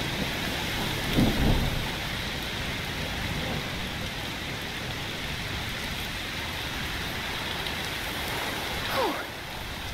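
Steady rain pours down during a thunderstorm in the video game A Plague Tale: Requiem, a dense continuous hiss broken by a low thunder rumble early on and another distant roll near the end.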